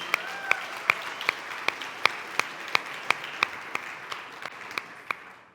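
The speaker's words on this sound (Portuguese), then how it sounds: "salva de palmas para vocês" An audience at a church service claps in a steady, even rhythm, each sharp clap distinct and moderately quiet, with no talking over it.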